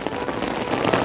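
Hail drums densely on an umbrella during a high-mountain pilgrimage trek, a close, loud, continuous patter of many small hard hits with no voices.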